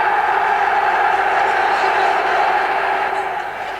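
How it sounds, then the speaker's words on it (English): Football crowd roaring at Wembley, a dense continuous wall of cheering and shouting from a packed stadium, loud and steady and easing slightly toward the end. "With the crowd roaring its heart out"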